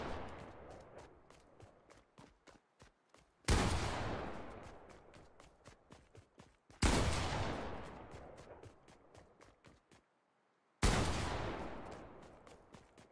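Three loud Fortnite gunshots ring out at spaced intervals, each leaving a long decaying echo, with rapid soft footstep-like ticks filling the gaps between them.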